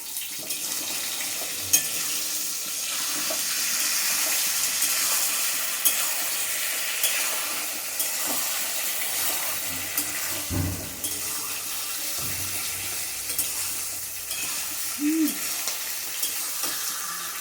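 Fried potato and eggplant sizzle in a pan with ground cumin and chili paste, a continuous close crackle with scattered stirring knocks and scrapes throughout.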